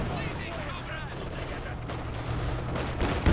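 Gunfire from Jaeger light infantry in Company of Heroes 2 crackles as scattered rifle shots over a dense battle din, moderately loud and continuous, with a heavier burst at the end.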